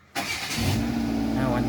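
A Kia Picanto engine, with a no-crank, no-start problem after a new battery, cranks abruptly and catches within a second, settling into a rough, loud idle; a voice talks over it.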